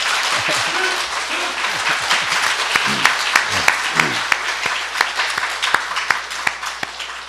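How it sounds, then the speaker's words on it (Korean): A church congregation in a Korean Sunday service claps in encouragement for a young man leaving for military service, with steady, crowded applause throughout and a few voices rising briefly over it. "우리 박수로 격려해 주시겠습니다"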